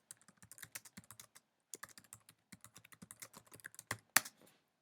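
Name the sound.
typing an SEO title on a computer keyboard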